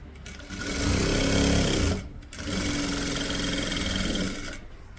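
Close up, a sewing machine stitches cloth for neck stone work in two bursts of steady, rapid whirring, with a brief pause between them and a tapering stop at the end.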